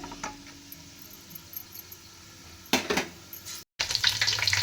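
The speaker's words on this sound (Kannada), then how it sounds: "ಒಣ ಮಸಾಲೆ ಹಾಕಿ ಸ್ವಲ್ಪ ಕೈ ಆಡೋಣ್ರಿ" Dry spices frying in hot oil and ghee give a soft, crackling sizzle with scraping stirs. Bursts of louder crackle come near the end, and no one speaks.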